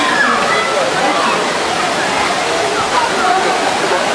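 Water gushing from a fountain as a wave builds in Vorontsov Park, a steady broadband rush that fills the whole clip, with people talking faintly over it.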